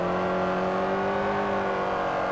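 Mini engine in Forza Horizon revving hard while pushing against traffic, a steady strained drone held at high revs, loud and close with no talking.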